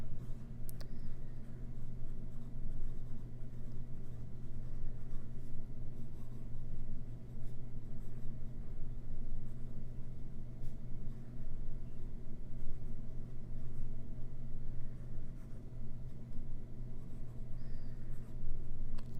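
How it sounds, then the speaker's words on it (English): A fountain pen left unused for years scratches across scrap paper in a continuous soft scratching, steady and close for nearly twenty seconds under a constant background hum. "let's write, shall we?"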